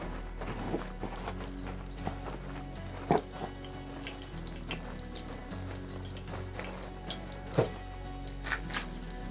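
Low crackling and sizzling of cube steak frying in hot grease, steady and close, with a few sharp pops and clinks over a constant hum.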